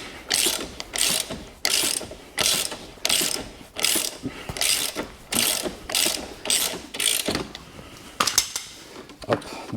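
Ratchet wrench clicking rapidly in repeated bursts, about a dozen strokes in a steady rhythm, while an 18 mm suspension link nut is loosened on a BMW 330d E92. The ratcheting is close and clear, with faint workshop noise between strokes.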